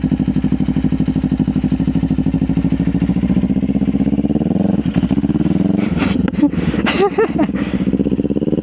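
A Kawasaki Ninja 500 motorcycle idles with a steady, close, loud engine throb, then gets a little throttle and revs up choppily as it starts to pull away.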